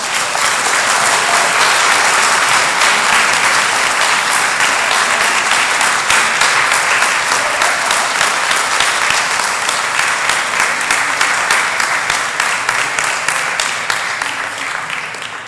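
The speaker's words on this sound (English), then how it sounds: "Ladies and gentlemen, how about a round of applause?" An audience at a city board of aldermen meeting breaks into sustained applause, a loud, dense wash of many hands clapping steadily for the whole stretch and tapering only slightly at the end.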